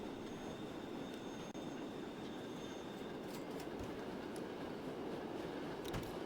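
A train rolls continuously along rails in Transport Fever 2, a steady broadband rumble with faint wheel squeal and light clicks, close and unbroken throughout with no talking.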